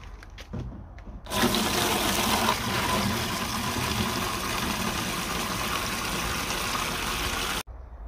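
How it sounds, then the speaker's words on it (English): A watering can pouring diluted liquid fertilizer onto garden beds, a steady close splashing stream starting after a second and running for several seconds before stopping abruptly, with no talk. "I put it in the watering can, mix it up, and apply it to the beds."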